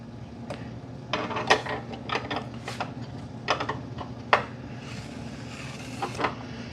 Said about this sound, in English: I am trying to bolt up the horns up here in the nose.